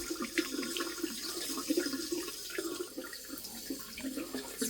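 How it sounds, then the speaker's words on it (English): Hot water runs steadily from a tap while being tested on a Baxi Duo-tec central heating boiler with a domestic hot water fault, a soft continuous splashing stream with no voices. "I'm going to test the hot water right now."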